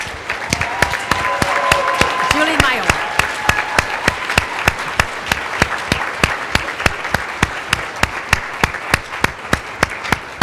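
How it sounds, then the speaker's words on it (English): At a business awards ceremony honoring an aviation executive, a large audience applauds steadily, the clapping settling into a regular, evenly spaced rhythm. A voice briefly speaks over it near the start. "please a round of applause."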